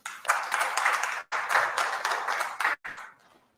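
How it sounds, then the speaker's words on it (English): Audience applause at a community dialogue event, a burst of clapping that stops briefly, resumes, cuts again and then tapers away to quiet. "let's give a warm hand of applause to Ms. Liesl Cronier, please."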